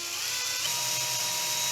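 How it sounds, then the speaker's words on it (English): A power drill bores slowly into hard stainless steel, a continuous high-pitched whining grind that holds steady and loud throughout, close up with no talk. "drill a hole in the center here. Drill slowly. It's stainless steel."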